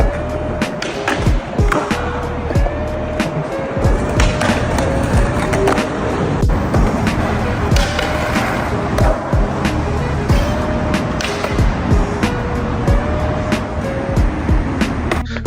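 Skateboard wheels rolling loudly and continuously over pavement, with repeated sharp clacks and pops from tricks and landings, plus faint traffic in the background and no talking.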